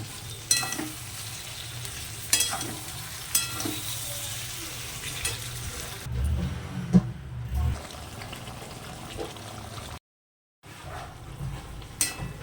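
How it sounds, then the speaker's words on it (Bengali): Spice paste of cumin, ginger paste, chili powder and tomato cooking down in a pan for a rohu fish curry, with a low sizzle, repeated stirring scrapes and clinks, and a brief gap of silence near the end. "এবার ভালো করে কষাবো"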